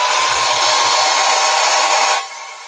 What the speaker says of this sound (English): All right, blow dryer real quick.